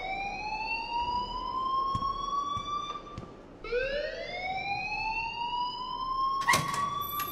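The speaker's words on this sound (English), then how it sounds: "please turn off that alarm since that's your job" Electronic fire alarm in the Life Is Strange video game: a loud, steady rising siren-like wail that sweeps upward in long repeated tones, briefly dipping and restarting midway, with faint background noise and no talk.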